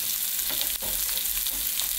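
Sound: searing beef short ribs in a pan

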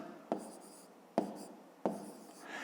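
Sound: writing numbers by hand for column multiplication

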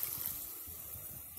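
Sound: water poured into cucumber tomato curry

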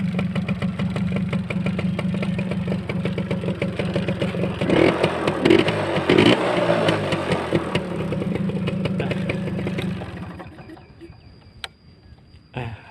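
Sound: Honda Smile motorcycle kick-started, engine idling

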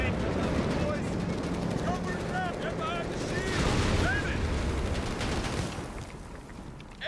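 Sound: gunfire in battle, from video game Company of Heroes 3

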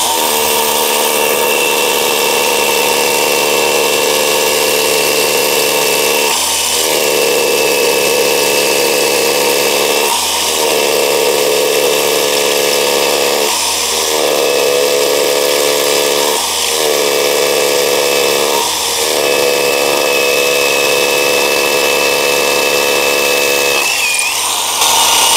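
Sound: Hukan cordless rotary hammer drilling concrete with 12 mm bit

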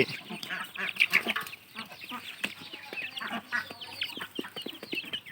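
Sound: laying ducks and chickens on a farm

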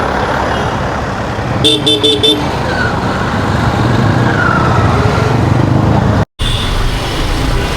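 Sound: heavy road traffic jam with honking

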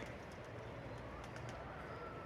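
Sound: pigeons

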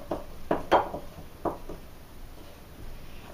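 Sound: spoon mixing honey muffin batter in a bowl

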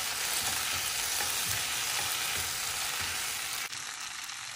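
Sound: stirring pasta and cheese in a pan on low heat

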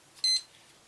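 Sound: stopwatch beeping as it is started

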